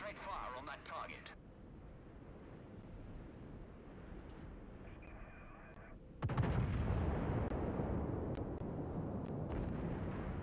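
Heavy artillery fire in a naval combat video game: a deep, sustained rumbling barrage bursts in loudly partway through after quieter ambient noise, with faint brief clicks and voices around it.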